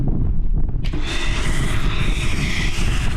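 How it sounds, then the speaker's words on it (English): Strong wind buffets an outdoor microphone during a budget build, a loud continuous roaring rumble that swells into a steady broadband rush and stays heavy throughout. "It's so windy, man."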